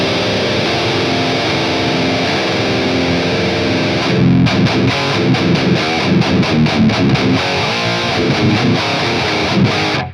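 Electric guitar heard through a blend of ribbon and Beyerdynamic dynamic microphone cabinet impulses, a loud distorted tone that opens with sustained chords and then moves into choppy, rhythmic palm-muted chugging before cutting off.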